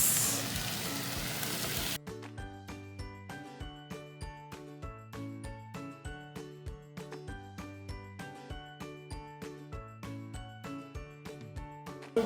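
Shrimp go into a hot pan of seafood risotto, giving a loud, hissing sizzle for about two seconds. Then it cuts to bright, tinkling background music with a steady beat.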